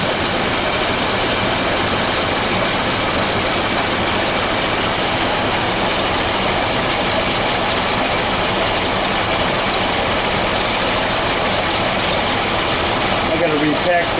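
A 1930 Ford Model A engine idles steadily nearby on an 8-volt battery setup, a continuous low rumble running throughout with broadband noise and a slight change near the end.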